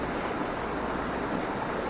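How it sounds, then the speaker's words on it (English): Running water in the Blue Ridge Mountains of North Carolina gives a steady, broad rushing wash, moderately loud and unbroken, with no one talking. "So just enjoy the sound of the water so I don't mess it up too much."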